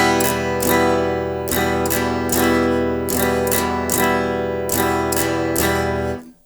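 An acoustic guitar strums a steady chord pattern in which the second and sixth upstrokes are left out, giving a rhythmic run of down and up strums that rings alone and fades at the end.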